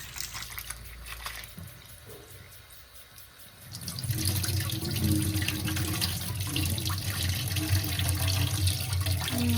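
Tap water runs into a sink during hand washing: after a quieter start, the flow turns on loudly and keeps gushing steadily up close.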